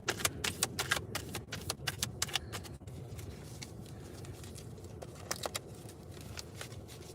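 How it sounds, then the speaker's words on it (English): A thick double tarot deck, two decks in one, is shuffled by hand in quick bursts of crisp riffling clicks. It starts busy, pauses briefly, then returns in a few scattered flurries, close and fairly quiet. "This one's harder to shuffle because this one has... I have two decks in one."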